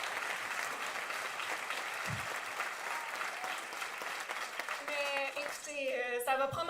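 Sustained applause from a crowd at a municipal election night speech, steady and dense throughout, with voices and cheers rising over the clapping toward the end.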